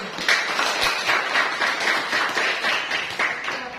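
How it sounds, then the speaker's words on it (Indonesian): Classroom applause for a group's presentation: a small group clapping steadily and fairly loudly at close range for several seconds. "kita berikan aplaus untuk kelompok 1"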